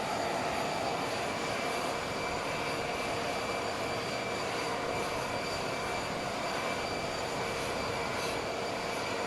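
Air Force One's jet engines run with a loud, continuous roar and high whine, steady and unbroken throughout with no voices.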